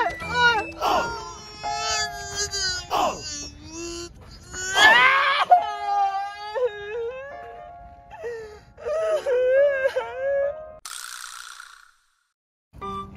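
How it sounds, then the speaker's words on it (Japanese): A loud, wavering wail of someone crying, with sobbing moans rising and falling over several seconds, then a brief rattling sound before it falls silent. "泣かないの。"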